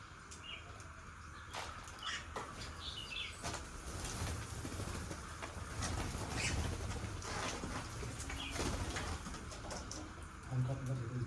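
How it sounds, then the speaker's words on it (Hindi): Pigeons or similar birds gathering to eat salty snacks on a cold, foggy day, with wing flaps, chirps and coos over steady background noise, and a voice talking at times. "और चिड़ियों को नमकीन डाली गई है तो आ गई हैं।"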